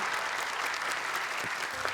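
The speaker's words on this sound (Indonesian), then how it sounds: "boleh tepuk tangan untuk Gibran dan Aisyah" A studio audience on the Hafiz Indonesia 2024 show claps for young contestants Gibran and Aisyah: a brief, even burst of steady applause, moderately loud and unbroken.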